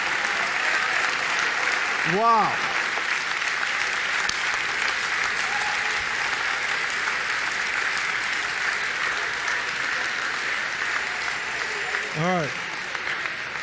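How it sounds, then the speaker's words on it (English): A church congregation applauds and cheers in sustained, steady clapping with crowd noise throughout, while someone speaks briefly over it twice. "just cheer before the Lord"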